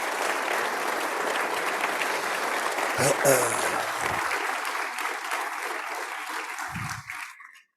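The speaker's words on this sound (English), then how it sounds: "so a round of applause for amazing." A crowd at an annual membership meeting applauds steadily for several seconds, a dense even wash of clapping in a hall that tapers off at the end with a brief voice.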